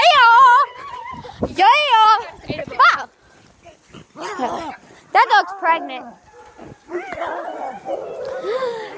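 Several dogs whimper, yip and bark close by in bursts, with high whiny cries rising and falling throughout.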